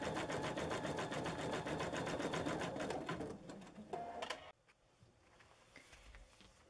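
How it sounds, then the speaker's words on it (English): An embroidery machine runs tack-down stitches for an appliqué shape on a lunch bag, with a fast, steady, close mechanical needle chatter that slows and then stops partway through, leaving faint room noise. "The first stitches that will stitch are tack down stitches"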